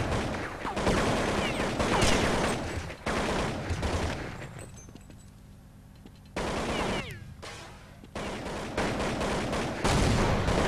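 Counter-Strike gunfire during a competitive esports match, dense rapid rifle bursts and rattling volleys with a few short lulls, loud and close throughout.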